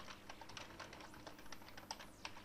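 Code is typed on a computer keyboard for a CCS C timer lesson, rapid irregular key clicks, close but faint, with no talk over them.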